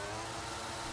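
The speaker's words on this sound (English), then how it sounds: "that revving it's very loud" A Formula 1 car engine in an F1 video game, on the Miami circuit, holds a loud, steady, high-pitched revving whine for about a second, with no talk.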